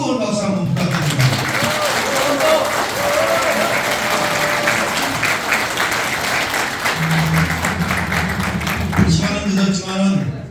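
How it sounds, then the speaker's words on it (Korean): Sustained, loud applause fills the room at a year-end gathering of a Democratic Party regional committee in Pocheon and Gapyeong, with dense clapping running throughout and a voice speaking over it. "여러분들 우리 부이사님과 임종성 우리 저 의원님께 뜨거운 박수 한번 부탁드립니다."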